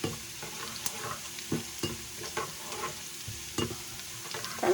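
Garlic frying in hot oil on an electric stove just switched off, a soft continuous sizzle broken by repeated scraping stirs, close and without talk.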